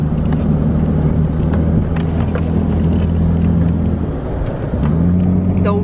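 A car engine pulls hard on a road trip, a loud, steady droning hum that holds pitch, briefly dips, then climbs again, with faint ticks and scrapes over the rumble.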